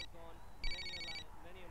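A cordless telephone rings with one short electronic trill at moderate loudness, heard over quiet room sound in a home, with people talking around it.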